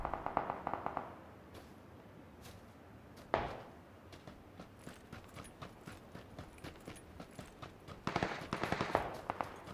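Rapid bursts of gunfire in the video game PUBG crackle in irregular volleys, some single shots and some quick strings, with a steady background rumble and no talking.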